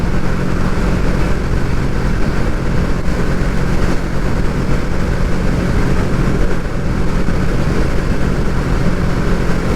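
A Kawasaki Vulcan S motorcycle cruises at 70 mph at just over 5,000 rpm, its engine a steady, loud drone buried in heavy wind rush, unbroken throughout with no talking.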